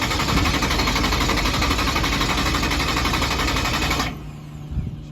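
A racing car engine fires up and runs with a loud, rapid, rattling drone that is steady for about four seconds and then cuts off abruptly, leaving faint outdoor background sound.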